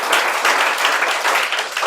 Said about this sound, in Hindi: तो इसके लिए ताली तो बजा सकते हैं।